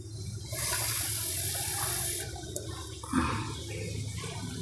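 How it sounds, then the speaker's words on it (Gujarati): A rush of water, about a glassful, pours steadily into a cooking pot of soya chunk and capsicum curry for about two seconds, then a brief splash and quieter trickling follow. "એક ગ્લાસ આપણે પાણી નાખીશું"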